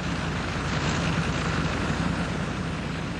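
A Sopwith Camel biplane with a rotary engine flies past, its engine making a steady, dense, loud drone with a broad roar that holds for the whole stretch.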